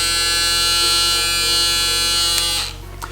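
A foil shaver for barbers runs with a steady, loud electric buzz close to the recorder, holding constant for a few seconds before switching off and falling quiet.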